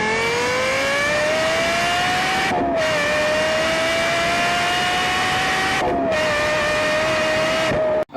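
Lexus LFA V10 engine revving hard, a loud high-pitched wail climbing steadily with two brief drops between gear changes, sustained and close for several seconds before cutting off.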